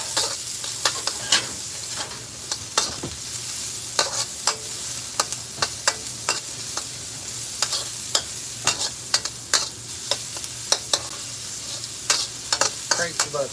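Onions fry in a pan for chicken fried rice, a constant near sizzle punctuated by frequent, rhythmic scraping and tapping strokes of a utensil across the pan.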